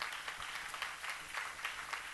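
A congregation applauding during a church sermon, a steady wash of many hands clapping with rhythmic swells, moderately distant and fairly quiet throughout.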